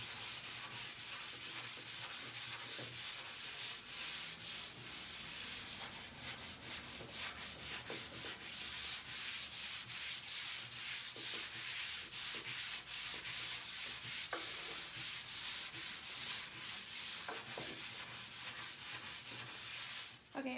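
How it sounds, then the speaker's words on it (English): Polyurethane or acrylic top coat being hand sanded, a close, continuous scratchy rubbing in quick repeated back-and-forth strokes that lasts throughout with no voices. "that's just the polyurethane or acrylic that you're kind of sanding into a little bit."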